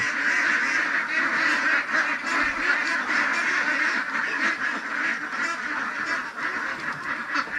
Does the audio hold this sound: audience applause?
no